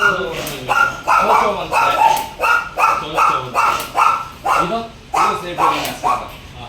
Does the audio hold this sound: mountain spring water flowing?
no